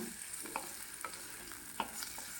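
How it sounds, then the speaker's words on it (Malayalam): Shallots and tomato sizzling and being stirred in a pan for a fish curry, soft steady frying hiss with a few distinct spoon scrapes and taps. "ഒന്ന് ഇളക്കി കൊടുത്ത ശേഷം വരിഞ്ഞു വെച്ച തക്കാളി കൂടി ഇതിലേക്ക് ഇടാം പച്ചമണം മാറുന്നത് വരെ നന്നായി ഒന്ന് വാട്ടിയെടുക്കണം"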